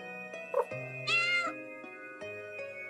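A cat meows a few times in the video game Umbraclaw, short tonal cries set against a sustained musical score with no talking.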